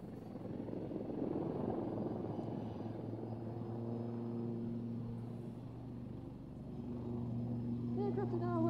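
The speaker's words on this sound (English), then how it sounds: "The aircraft are now positioning for opposition." Aircraft flying at an airshow, a broad steady engine roar with droning propeller tones that shift in pitch and swell near the end, heard from a distance.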